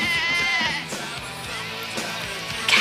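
A goat bleats in a long, wavering, nasal cry that holds steady for a few seconds, up close and alone.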